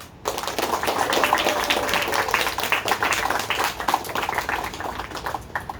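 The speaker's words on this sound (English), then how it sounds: "can I please, from the staff and the campers, have a big round of applause for Tabor?" Staff and campers at a summer camp award ceremony give a big round of applause, dense clapping starting abruptly after a brief quiet moment and continuing steadily, with a few louder individual claps standing out.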